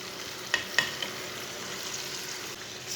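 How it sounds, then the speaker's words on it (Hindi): Boiled white chickpeas are stirred into a fried spiced masala in a pan, with a steady sizzle throughout and a couple of sharp spoon scrapes near the start, no talking. "उबले हुए चने डाल लेंगे"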